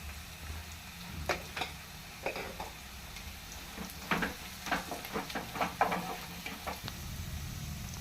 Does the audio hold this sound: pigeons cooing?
no